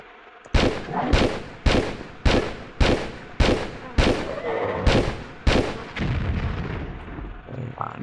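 Nine evenly spaced, sharp gunshots ring out one after another in Tomb Raider 3 on PS1, in the Lost City of Tinnos, each with a booming echo, followed by quieter game ambience.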